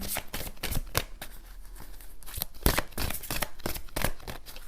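Playing cards being shuffled and drawn make quick, crisp riffling and snapping flicks in an irregular run of bursts, close and fairly quiet, with no talking.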